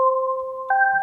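A Serum synth bell pluck with detuned octave layers: one sustained two-tone chime, then a second brighter chord struck partway through, clean and close with nothing else around it.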